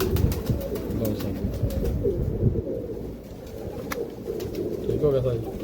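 Pigeons coo softly on a rooftop loft in a low, rolling murmur under steady chatter, with sharp clicks and handling noises scattered through.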